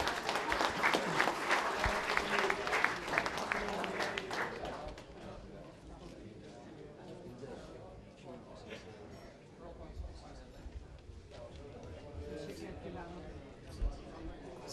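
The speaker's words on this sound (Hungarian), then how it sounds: "egy nagy-nagy tapsot gondolom megérdemel" Applause at a company year-end event as an employee, a machinist, is called up for an award: a dense crowd clapping for several seconds, then fading into murmuring voices and room noise.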